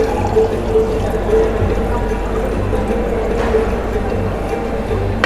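Plain water pours from a push-button drink dispenser at a buffet restaurant in Japan, a steady close stream running throughout over a busy dining-room background.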